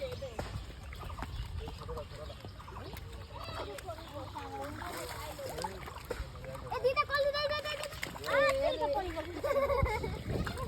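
Temple turtles splash and snap at dried fish in a pond, producing scattered soft splashes and spatters beneath near, excited voices of people and someone talking throughout.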